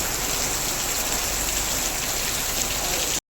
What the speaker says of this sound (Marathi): खूप पाऊस पडतोय आता